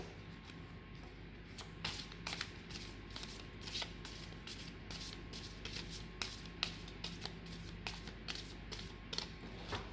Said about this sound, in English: first we're going to clear the cards